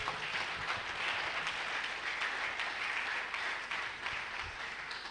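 Workshop audience at an annual review and planning session giving a round of applause, a steady, moderately distant clatter of many hands that continues evenly and tapers a little at the close.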